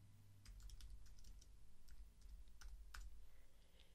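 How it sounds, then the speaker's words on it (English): Keys clack on a computer keyboard in quick, irregular bursts of clicks over a low steady hum, quiet and close. "I'm going to press the Return or the Enter key on the keyboard to add another line of type"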